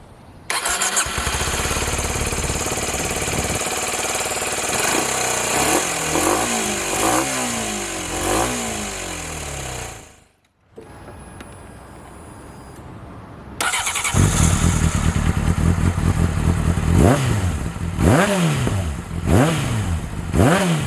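Kawasaki ZZR1400 motorcycle with a 1441cc four-cylinder engine revs hard in loud repeated throttle blips, rising and falling pitch sweeps, a short quiet gap midway, then a louder burst of revving close by with no talking.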